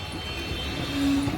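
A train pulls through Karad station at night on the Kolhapur–Mumbai line, the Mahalaxmi Express. It makes a steady, fairly loud rumble with a faint sustained tone partway through and no talking.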